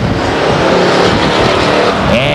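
Race cars at Stockton 99 Speedway roar down the backstretch bumper to bumper, a loud, dense engine howl close by with a tire squeal near the end.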